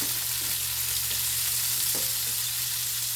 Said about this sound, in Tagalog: Lagyan ko siya ng kamatis.